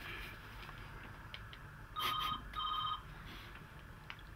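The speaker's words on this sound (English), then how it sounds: "The phone's ringing now." A telephone rings faintly in a shop, two short electronic ring bursts in quick succession over quiet room background.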